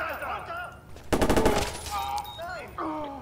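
A rapid burst of automatic gunfire rings out in the video game Watch Dogs, loud and close for about a second. Character voices in the game sound before and after it.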